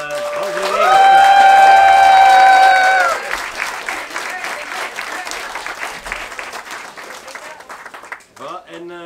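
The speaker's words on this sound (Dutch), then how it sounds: "in de eerste plaats een warm en daverend applaus willen vragen voor Mario" Warm, sustained applause from a crowd at a halfway event in Sint-Katelijne-Waver, with tonal sounds over it for the first few seconds and then a steady clapping texture. A voice starts speaking near the end.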